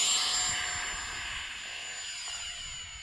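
E-flite Habu SS radio-controlled electric jet whines steadily in flight, a loud, high-pitched motor tone that eases slightly in level and holds for the whole three seconds, with no talk.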